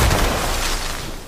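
A flare gun fired in a game: a single loud, deep blast with a brief rumbling tail, heard alone with no talking.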